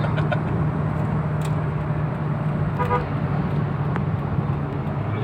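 A 2013 Toyota Rush accelerates hard with a steady, loud engine drone and road rumble from inside the cabin, plus a faint short horn-like toot partway through.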